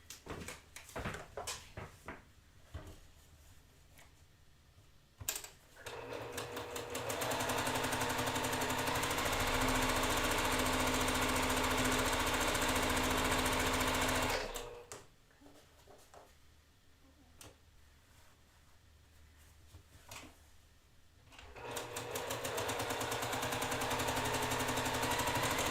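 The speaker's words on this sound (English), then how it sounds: "So we're gonna go sew those." A sewing machine stitches quilt block fabric pieces in two long, steady runs of loud motor whir, separated by quieter handling and short pauses.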